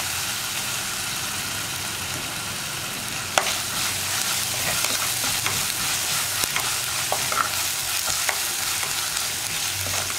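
Curry leaves and onions fry in a pan for a fish curry made with kozhuva, a steady hiss of oil with scattered clinks and taps of stirring layered over a low background hum.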